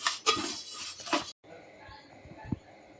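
Roasted fenugreek and other methi ladoo ingredients are scraped from a pan onto a metal plate, producing brief close scraping and clinking sounds before a short quiet pause and softer faint clinks.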